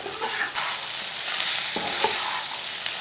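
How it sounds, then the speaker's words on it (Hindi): Leftover rice sizzles and fries in a pan while a spoon stirs and scrapes through it, a steady close crackle with occasional soft knocks of the utensil against the pan. "अब इसे 3 मिनट तक भून लेंगे।"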